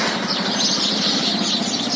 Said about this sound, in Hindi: यह संध्या वेला की चिड़ियों की मौज है।